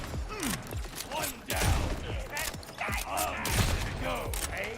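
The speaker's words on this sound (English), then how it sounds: "Damn, that Jacob shotgun crits though" A Jakobs shotgun fires repeatedly in Borderlands, punchy blasts at an uneven rhythm mixed with mechanical clanks and whooshing game effects, loud and close, with talking in between.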